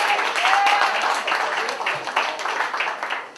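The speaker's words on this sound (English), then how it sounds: "Audience, applaud the judges." An audience at a poetry slam in New York City claps for the judges, broadband applause sustained throughout with some crowd voices mixed in.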